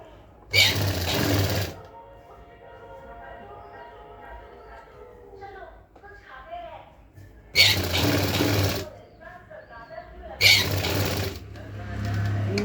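Bursts of a sewing machine stitching the centre seam of a designer blouse, three loud runs of rapid mechanical whirring separated by quieter stretches where someone talks.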